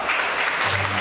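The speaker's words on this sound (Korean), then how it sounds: "큰 박수로 우리 두 분을 맞이해 주시면 감사하겠습니다" Wedding guests at a Korean ceremony applaud the couple's entrance with a brief, dense burst of clapping from a crowded hall.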